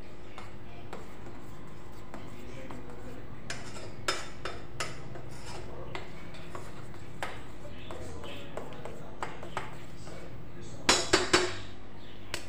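Spoon clinks and scrapes against a pan while coffee is stirred on a gas stove, a series of faint, irregular metallic taps over a low background, with a few sharper clinks near the end.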